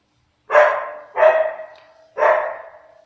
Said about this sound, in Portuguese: A cachorra latindo